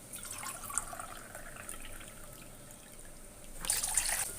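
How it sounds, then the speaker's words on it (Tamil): Water is poured into a pot of biryani rice for cooking ghee rice, a soft trickling and splashing that swells louder near the end, with no talk over it. "இப்போ தண்ணி வந்து நான் ஊற்றிடுறேன்."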